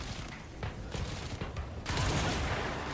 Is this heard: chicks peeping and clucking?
no